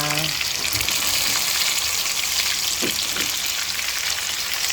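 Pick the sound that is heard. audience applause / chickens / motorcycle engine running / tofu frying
tofu frying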